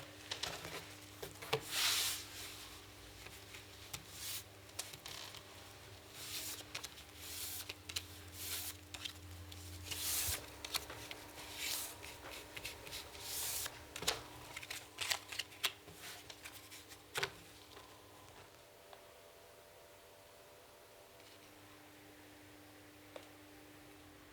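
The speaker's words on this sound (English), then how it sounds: "he must now arrange a separate pack of cards in the exact same order" A separate pack of playing cards is handled and arranged by hand in a quiet room: irregular soft flicks, riffles and snaps of cards, busier in the first half and sparser later, with a faint steady hum behind them.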